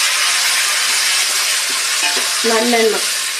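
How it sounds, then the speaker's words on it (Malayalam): Half a kilo of chopped tomatoes hits hot oil for a homemade tomato pickle and is stirred in a pan. A loud, continuous sizzle with scraping stir strokes runs throughout, close up. "നമുക്ക് അരിഞ്ഞ് വെച്ചിരിക്കുന്ന തക്കാളി ഇട്ട് കൊടുക്കാം"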